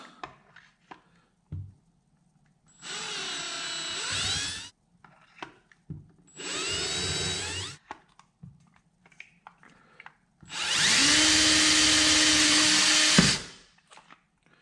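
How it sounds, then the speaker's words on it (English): A power drill boring holes during a Berley Pro steering upgrade on a Native Watercraft Titan P kayak, heard as three separate whirring bursts of a few seconds each, the last one longest and loudest, with quiet handling noises between them. "All right, got our holes drilled."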